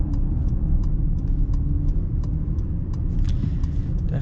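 The V6 engine of a 2026 Honda Ridgeline Sport hums steadily as it accelerates, heard from inside the cabin with road rumble and a faint rhythmic ticking.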